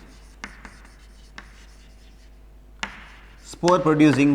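Chalk or a marker taps and scratches on a board during a biology lecture, giving a few short, sharp strokes. The teacher's voice comes in loudly at the end.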